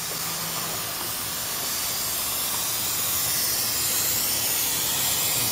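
An aerosol spray paint can hisses steadily as aluminum is coated, a close continuous spray sound with no talk, its level holding even and swelling slightly toward the end.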